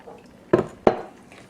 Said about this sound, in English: Now we're going to stir in our milk and our heavy cream.